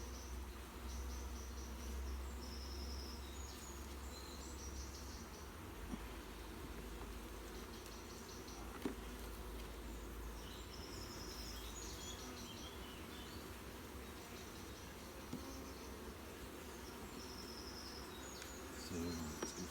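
Honeybees buzz steadily around an open hive in Norfolk, a dense, continuous drone. Faint higher chirps and a few soft knocks from the hive come through, and no one speaks.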